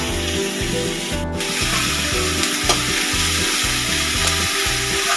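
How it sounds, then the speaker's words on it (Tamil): Onions sautéing with green chilies, coriander, mint and curry leaves for Madurai-style chicken chukka give a steady, close sizzle, and a spatula rhythmically scrapes and stirs through the pan. "இந்த எல்லா பொருளையும் சேர்த்து மறுபடியும் ஒரு வாட்டி வதக்கணும்"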